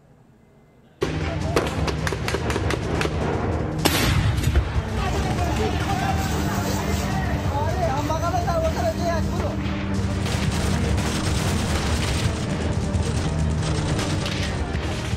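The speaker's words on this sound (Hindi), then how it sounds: "गोलियों की तड़तड़ाहट" Rapid bursts of gunfire rattle continuously in Afghanistan amid loud, dense noise and a murmur of voices, with a heavy thud early on.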